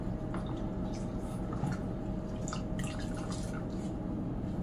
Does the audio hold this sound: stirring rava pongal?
no